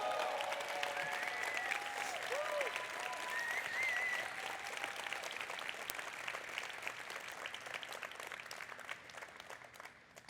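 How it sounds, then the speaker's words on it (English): A conference crowd at a Python Software Foundation awards session claps in a thick, sustained burst, with a few voices and whistles mixed in, before gradually tapering off over about ten seconds. "So let's give them a round of applause."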